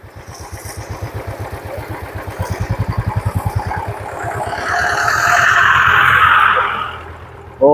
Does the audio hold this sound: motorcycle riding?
yes